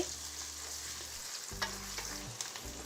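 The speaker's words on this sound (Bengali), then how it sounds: "এখন পেঁয়াজ কাঁচামরিচটাকে আমি হালকা ভেজে নিচ্ছি" Chopped onions and green chillies fry in hot oil with a steady, close sizzle, broken by a few soft scraping stirs and clinks of a spoon against the pan.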